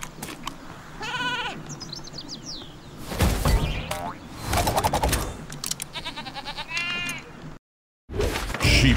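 Sheep Creep, a sheep enemy in the video game Skylanders Trap Team, bleats several times amid game sound effects, boings and music, with a brief drop to silence near the end.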